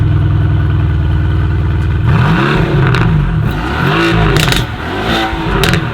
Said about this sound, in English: why don't you just listen to the way this thing sounds?